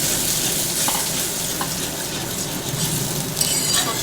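Mustard paste hitting golden-fried onions in a hot pan for a pomfret curry, giving a steady, dense sizzle with faint stirring scrapes and no talk.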